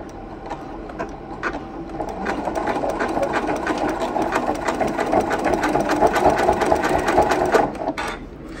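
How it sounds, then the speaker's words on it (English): A sewing machine stitches quilt binding in reverse with a fast, even mechanical chatter close by, building gradually and then stopping near the end, with no one speaking. "And now I'm going to backstitch."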